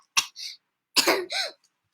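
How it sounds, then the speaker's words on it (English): A couple of sharp, close coughs, a short pause, then another rougher cough followed by a throaty clearing sound; no talking. "I've started coughing."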